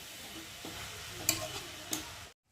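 A spoon stirs and scrapes a coconut naru mixture with milk in a pan over low heat, giving a soft sizzle underneath. Two sharper clinks of the spoon against the pan stand out before everything cuts off abruptly.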